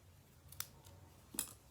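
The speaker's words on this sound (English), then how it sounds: "I'm going to take my snips and I'm just going to snip two little parallel" Small snips cut paper twice, two quick, crisp clicks about a second apart, close and quiet with nothing else around them.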